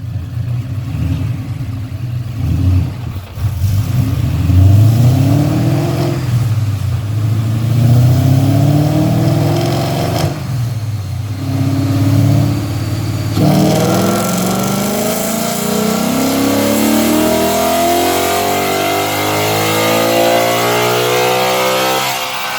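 A 2012 Mustang GT with a Cobra Jet intake, running on pump gas, revs loudly on a dyno, its engine pitch climbing in long sweeping pulls with brief dips between runs.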